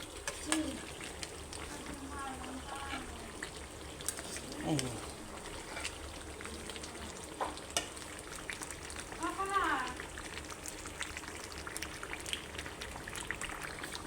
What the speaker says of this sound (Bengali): এখন আমি ভালো করে কষাই নেব